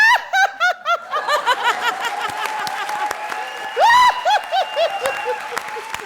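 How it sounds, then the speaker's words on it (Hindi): A studio audience at a Comedy Circus comedy show bursts into loud, bouncing laughter and snickers mixed with clapping, rising and falling in waves, then swelling again near the end. "जोरदार तालियां."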